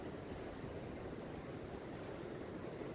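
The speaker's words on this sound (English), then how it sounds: "You hear that wind blowing?" Wind blows beside a river in Rio as a faint, steady, broadband whoosh that continues evenly throughout, with no talking.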